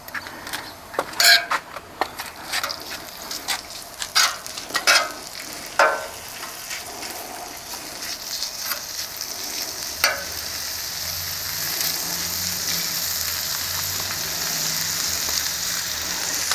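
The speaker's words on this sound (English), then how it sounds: "we're gonna throw on the bacon, and go ahead and put it into the oil" Bacon strips land in hot oil in a pan, with a few clattering pops and crackles at first before a steady, close, hissing sizzle builds and holds, with no talking.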